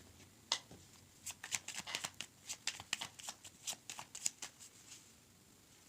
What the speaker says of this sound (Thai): อาะเรามาเปิดไพ่กันต่อ